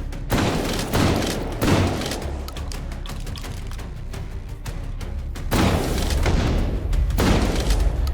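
A Steyr AUG rifle fires in the H3VR video game on the Institution map, loud booming shots in quick strings with a lull in the middle before another rapid volley, heavy close reverberant reports.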